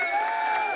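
A soundboard applause effect plays as a short burst of clapping and crowd cheer, fairly loud and alone, lasting under a second.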